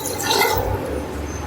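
Water pours into a pot of rice being cooked for an Eid recipe, a short, close splashing gush that fades into a lower trickle, with no talk over it.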